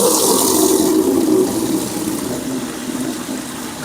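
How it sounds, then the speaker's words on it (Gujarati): Water gushing from a tap into a bucket in a bathroom on laundry day, a loud steady rushing pour that softens slightly as the bucket fills. "ફરીથી 1 ડોલ પાણી ભરી દઈએ આપણે બરાબર"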